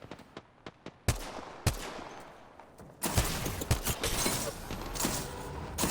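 Apex Legends gunfire: a few sparse single shots at first, then a dense, loud burst of rapid automatic fire with sharp cracks and bullet impacts, no speech.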